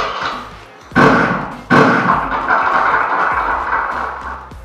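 Two loud shotgun blasts at a clay target, roughly three-quarters of a second apart, each with a sharp onset and a long outdoor decay.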